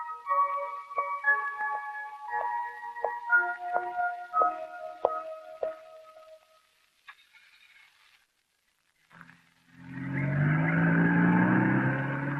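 A car, Rajendran's, arrives with a loud, smooth engine rumble rising in over the last few seconds, after quiet and a stretch of harmonic tones, with no talk over it.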